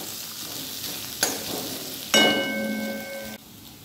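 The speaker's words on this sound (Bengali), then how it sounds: "পেঁয়াজটা একটু ভাজা ভাজা হয়ে গেছে।" Onions fry in a pan with a steady close sizzle, broken by a couple of stirring scrapes and a brief ringing clang of a utensil against the metal, with no speech.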